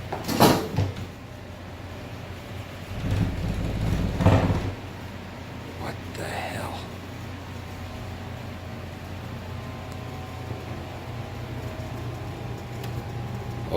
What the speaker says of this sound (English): You think one more time you could close the door?